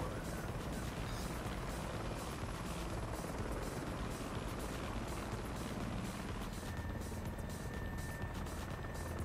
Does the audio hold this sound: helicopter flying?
yes